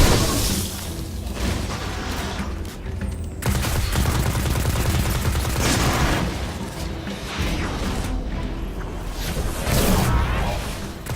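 Sustained, dense auto rifle fire from the Destiny 2 shooter, loud and continuous with booming impacts and mechanical clatter throughout, no voices over it.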